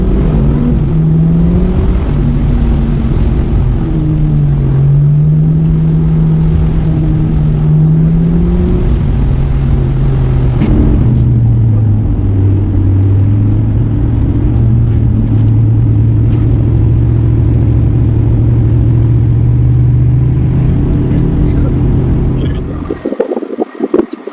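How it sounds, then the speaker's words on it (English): Muscle cars on the Hot Rod Power Tour do burnouts, a loud, continuous V8 rumble with engine pitch rising and falling under sustained throttle, ending abruptly. "So let's make America have better rubber again and do some burnouts."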